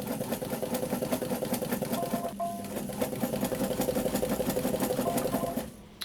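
A sewing machine stitches tree straps in a steady, rapid rhythmic chatter, close and fairly loud, with a brief hitch midway before running on and stopping near the end.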